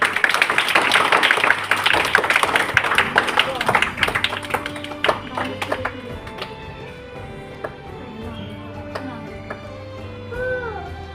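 Children at a gurukul Holi gathering break into a burst of clapping that fades after a few seconds, followed by scattered taps and voices talking.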